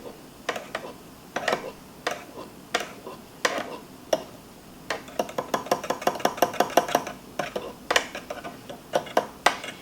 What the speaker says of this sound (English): now I'm gonna just take a fork and just like softly scramble these and mix them together